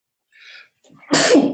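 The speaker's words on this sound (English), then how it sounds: "I'm about to sneeze." A short sharp intake of breath followed by one loud, explosive sneeze, close up.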